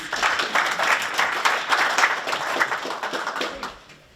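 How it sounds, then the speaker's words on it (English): Town hall audience clapping for a speaker, a lively crowd of hands with distinct individual claps audible, fairly close, tapering off near the end. "A round of applause for her, please."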